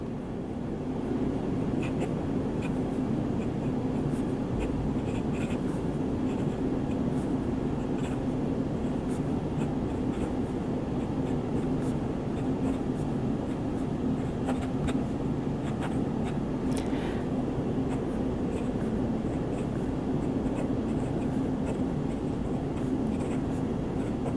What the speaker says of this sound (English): I'm going to let you hear whether or not you can hear this nib on this paper.